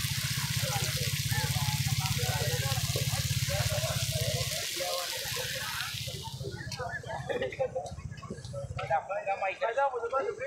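A friend's cooking at a roadside spot on a visit to Abaseen in Swabi gives a steady, loud sizzling hiss with a low hum beneath it. The sizzle fades after a few seconds as people talk nearby.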